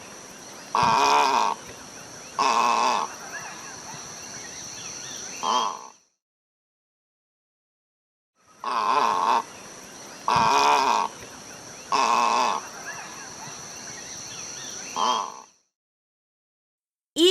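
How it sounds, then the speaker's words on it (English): Egret calls: two near, loud sequences of harsh, croaking squawks, each made of three or four bursts, separated by a few seconds of silence. "Egret."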